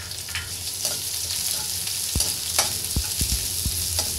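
Chopped onions hit hot oil in a pan for fried rice and sizzle steadily while a spatula stirs them, with several sharp scraping knocks in the second half; no voices.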